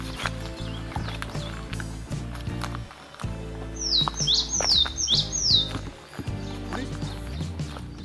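Wild birds sing in a forest park in northern Harima, Hyogo, Japan, with a burst of rapid, repeated chirping notes in the middle, set against a steady, busy outdoor background of other sounds.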